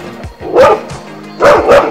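A dog gives two pairs of sharp, loud barks close to the microphone, separated by a short quiet gap with faint softer vocal sounds in between.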